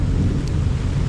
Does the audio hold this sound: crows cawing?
no